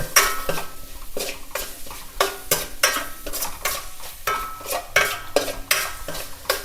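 Mushroom fried rice is stir-fried in a pan, with a loud, rhythmic series of spatula scrapes and clanks against the metal over a continuous sizzle, close and without talk.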